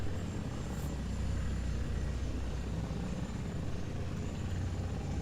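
At an air show, an aircraft roars past as a loud, steady, broadband engine rumble that fills the whole stretch without letting up.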